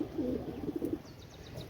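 Domestic pigeons kept for sale coo nearby, a soft rolling burst of low coos early on, then quieter chirps and faint background noise.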